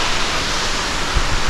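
Aw-asen Falls at Kankantuban Rockies Eco Park gives off a loud, steady broadband rush of falling water, close and constant with no voices over it.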